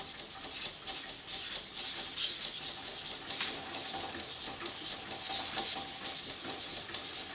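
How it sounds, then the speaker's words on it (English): A single-bevel yanagiba knife tip is worked on a sharpening stone in quick, rhythmic back-and-forth scraping strokes, close and crisp, each rub a bright gritty swish repeating steadily with no voices. "as you sharpen the tip area to not remove so much extra metal here"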